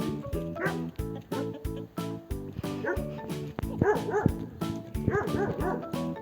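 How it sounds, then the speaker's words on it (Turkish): Several small dogs yip and bark in quick, irregular bursts, close by, over a busy harmonic background that sounds like music or other noise. "Köpek bak orada köpek. Hav diye maslıyor değil mi?"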